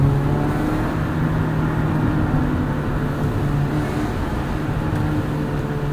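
A 1998 Acura Integra GSR sedan pulls hard through second gear, its engine droning in a steady, continuous rising hum heard from inside the cabin, with no talk over it.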